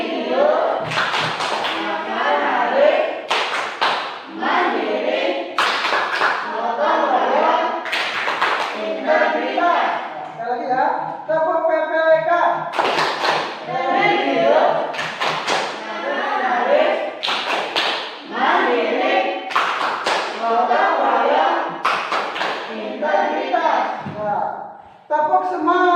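An elementary school class stands and performs a rhythmic clapping chant together, with bursts of sharp hand claps and taps falling in time with loud group voices, repeating in patterned phrases throughout.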